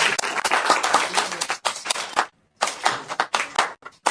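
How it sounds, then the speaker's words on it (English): A round of applause from participants at a mental health video conference, dense clapping that stops abruptly partway through, falls briefly silent, then resumes. "let's have a round of applause for Glen Park"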